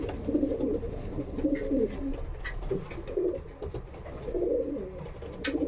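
Several pigeons coo in low, throaty bursts close by in a loft, overlapping steadily with soft rustling in between.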